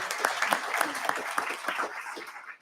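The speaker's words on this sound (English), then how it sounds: "let us clap for you being here with us" Applause in a House Finance, Ways and Means Committee hearing room: a steady, dense patter of many hands clapping for about two seconds, fairly close, then quickly tapering off.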